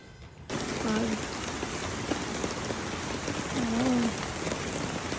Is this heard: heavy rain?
yes